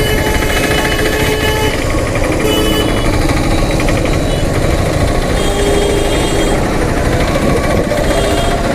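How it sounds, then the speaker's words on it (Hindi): A Bajaj Platina H-gear motorcycle engine drones loud and close during a long highway ride, a constant buzzing, rattling roar mixed with wind rush that never lets up. "सुबह 4 बजे से लेकर अभी तक लगातार बाइक चला रहे हैं।"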